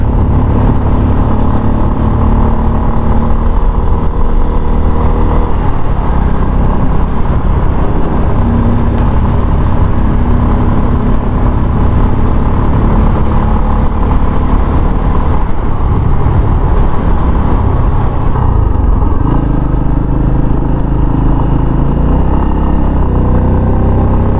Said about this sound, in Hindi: बहुत मस्त तरीके से जा रही है बाइक।